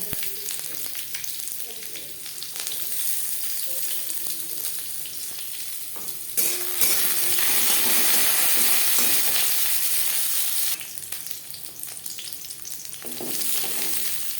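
Chicken pieces fry with ginger, garlic, dried red chillies and bay leaves for butter chicken, a loud close sizzle that surges when the meat hits the oil, with stirring throughout.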